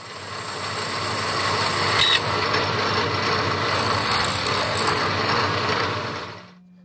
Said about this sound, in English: I'm going to spot the hole, drill it, and tap it